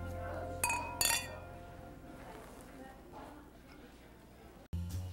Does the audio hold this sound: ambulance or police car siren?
no